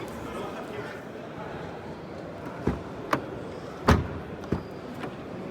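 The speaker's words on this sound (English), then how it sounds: "Good opening and closing sound, doors open wide." Doors on a 2024 Škoda Scala FL Essence open and shut, with a few sharp thuds and latch clicks spaced over a couple of seconds against a steady background wash.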